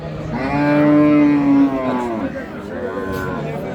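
A Sahiwal cow at a cattle market gives a long, loud, close moo that rises and falls, followed by a shorter, softer second call, with faint market bustle behind.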